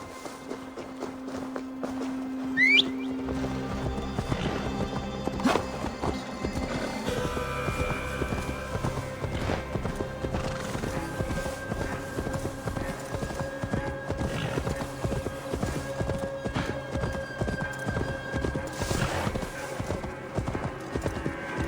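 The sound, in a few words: horse hooves in a video game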